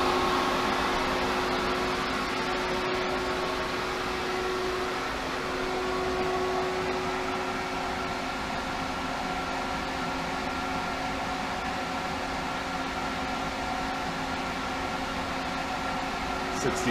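A Hayward Super Pump VS variable-speed pool pump on a 20x40 foot pool runs at speed 2, about 3200 RPM, giving a steady, even mechanical hum and whir with a faint tonal whine, continuous and unchanging throughout.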